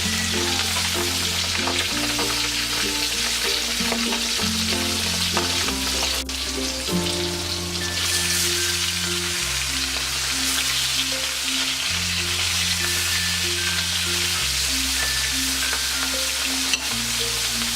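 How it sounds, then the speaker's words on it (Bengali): Rui fish pieces fry in hot oil with a loud, continuous hiss and crackle, over steady background music with no talking. "এখন আমি এক এক করে মাছগুলো দিয়ে দেব।"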